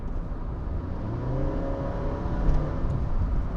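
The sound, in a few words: Honda City with CVT gearbox accelerating from 70 to 80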